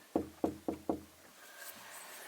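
Four evenly spaced, resonant knocks on a thick, solid, curved wooden door, followed by a quiet faint rustle.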